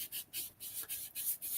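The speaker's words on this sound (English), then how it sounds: "I'm going to take this scrap piece of paper and put it on top, and then I'm going to rub" A pressing tool rubbed back and forth over scrap paper laid on a stamp, making about six quick, close, dry rasping strokes in a steady rhythm with short pauses between them.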